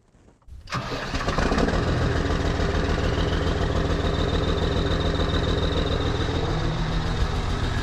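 A New Holland TS115A tractor's diesel engine cranks and fires up from a cold start after a brief quiet start, then settles into a steady, loud, rumbling idle that runs on without a break.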